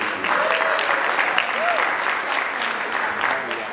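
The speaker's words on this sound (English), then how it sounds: "So let's give our sponsors a round of applause." An audience at a large business networking mixer applauds the event sponsors: a full, steady round of clapping that carries on evenly for several seconds, with faint voices underneath.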